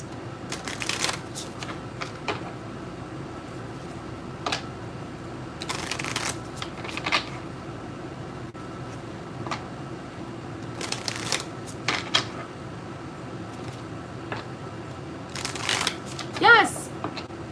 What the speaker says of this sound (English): I am going to shuffle and read the chat.